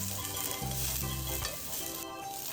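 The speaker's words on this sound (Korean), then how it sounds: "대파와 홍고추를 넣고 약불에서 재료들의 향이 배어나올 수 있게 볶아주세요." Green onion, red chili pepper and zucchini stir-fried in oil over low heat in a pan, a steady close sizzle with soft spatula scrapes and shifting bursts of frying, no voices.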